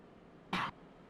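A single short, sharp cough, close and fairly loud, standing alone against quiet background hiss.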